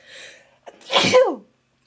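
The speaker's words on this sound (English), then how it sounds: "I have to sneeze." A single close, loud sneeze from a woman crafting a Halloween V-split tumbler, with a short in-drawn breath before the sharp burst.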